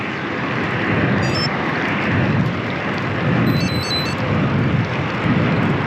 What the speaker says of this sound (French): Et on va prendre un peu de vent de face.